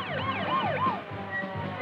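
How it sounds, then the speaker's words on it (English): An ambulance siren wails in rising and falling sweeps as the vehicle speeds the injured to hospital after a crash during a nuclear weapon accident exercise, loud and steady over a low engine and road rumble. "an ambulance speeds the injured to a nearby hospital"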